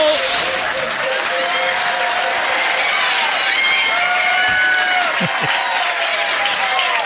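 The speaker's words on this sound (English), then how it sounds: "give him a huge round of applause" Loud applause and cheering from a large crowd, with whoops and excited shouts rising above a dense wash of clapping.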